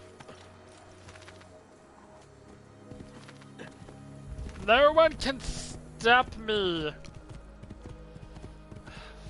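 A horse gallops in the video game Assassin's Creed II, its rhythmic clip-clop hoofbeats heard alongside someone talking and a shouted line.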